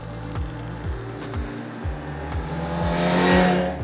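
A 2026 Honda CB1000GT sport-touring motorcycle engine revs hard through several quick gear changes, each climb in pitch dropping sharply, then a rising roar as it pulls away.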